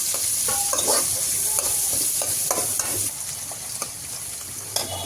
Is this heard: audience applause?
no